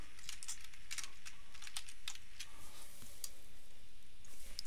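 Fingers type briskly on a computer keyboard, a quick uneven run of light clicks and taps close by, with no voices.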